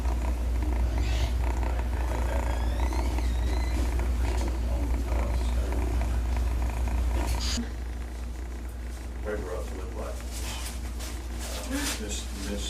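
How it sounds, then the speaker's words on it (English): A severely injured kitten purrs close up in a continuous low rumble while kneading, with faint voices and small rustles in the background. "He's purring and he's kneading and everything just like a normal kitten does."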